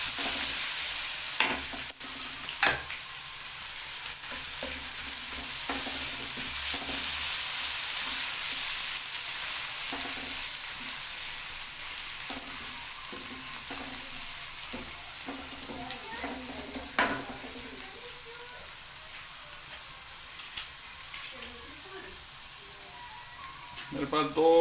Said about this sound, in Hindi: ये 2 चम्मच लहसुन अदरक का पेस्ट है। अब इसकी भुनाई करूँगा इसमें।